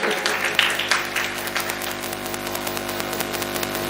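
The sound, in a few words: audience applause at a poetry recital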